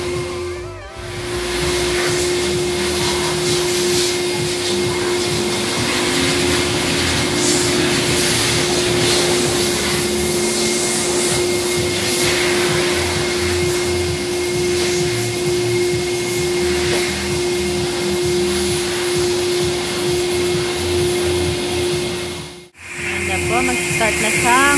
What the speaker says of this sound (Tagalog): Start na siyang mag-car wash. Magpa-power wash na po.